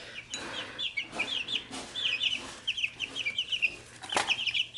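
Two-week-old male chicks in a brooder give high, busy cheeping and peeping, near and continuous, with a soft rustle and one brief flutter.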